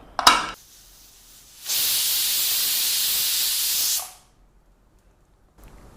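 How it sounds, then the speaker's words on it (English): A loud, steady hiss of steam jets out for about two seconds after a brief clatter, then cuts off abruptly into near silence. "Out comes the steam, and let's place the stopper."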